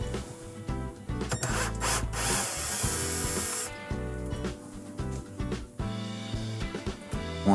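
A power screwdriver whirs in repeated short bursts, close and steady, as Phillips screws are backed out of the lower spray arm inside a Samsung dishwasher.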